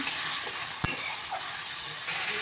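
Wilted leafy greens are stirred and sautéed in a pan, giving a steady soft sizzle with one sharp spatula knock and light scraping, close and alone without speech.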